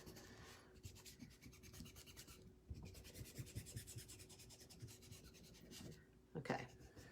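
A design is rubbed down onto a 2x4 wood board, giving quiet, close, rhythmic scratchy rubbing strokes that come in bursts, with a brief louder scrape near the end and a faint steady hum underneath.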